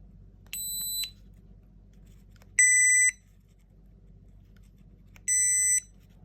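Three short electronic beep bursts from a PATPET electronic dog collar, each about half a second, spaced a couple of seconds apart over a low background hum.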